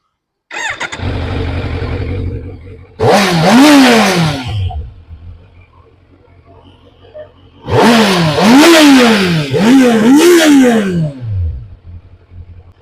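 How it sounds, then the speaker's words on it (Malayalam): A Kawasaki Z900 inline-four engine with its stock exhaust starts and settles to a steady idle, then gives a loud revving blip, and after a quieter stretch two more sharp, close revs rise and fall. "ആ ഇൻലൈൻ സ്വീറ്റ് സൗണ്ട് ഉണ്ടല്ലോ, അതാണ് ഇതിന്റെ ഒരു സ്റ്റോക്ക് എക്സോസ്റ്റ്"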